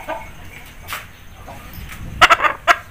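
An Aseel hen gives a few short, sharp clucks near the end, close and fairly loud, after a stretch of quiet background noise.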